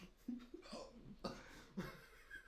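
A man hiccuping, several short sharp hiccups in irregular succession with breathy catches between them, close and fairly quiet.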